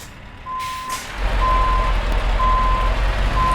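A truck in Euro Truck Simulator 2 backs up its trailer as evenly spaced reversing beeps sound over a low, steady diesel engine rumble, with a hiss of air brakes near the start.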